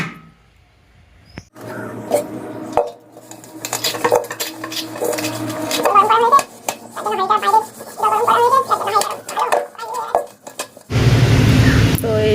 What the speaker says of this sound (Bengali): হাঁড়িটা এখনও মাজা হয়নি হাঁড়িটা এখন মেজে নেবো